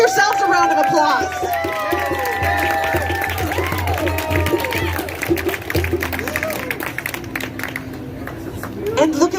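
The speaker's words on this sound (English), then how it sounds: "Give yourselves a round of applause." A crowd at an outdoor protest march against vaccine mandates in Seattle claps and cheers. The sustained applause mixes with whoops and shouted voices over a low rumble, and the whole thing stays busy and fairly close throughout.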